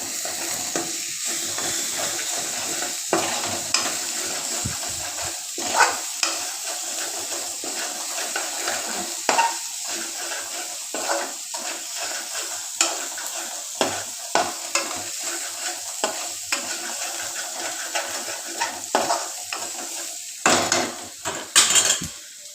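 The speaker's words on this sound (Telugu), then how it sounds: "తర్వాత 1 స్పూన్ ఉప్పు వేసి కలుపుకోవాలి." Egg fried rice being stirred in a pan after salt goes in, repeated scraping and clattering of a spoon against the metal over a low sizzle, close and rhythmic, with no talking.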